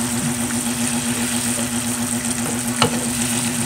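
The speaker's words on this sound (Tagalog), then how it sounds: "Ilagay ko na po ang aking naprito ng tokwa. Haluin lang po natin ng konti." Sautéed pork with fried tofu is stirred in a simmering pan, a continuous close sizzle over a steady low hum, with one brief scrape near the end and no talking.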